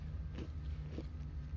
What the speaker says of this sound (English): should not be chewing during a cutscene.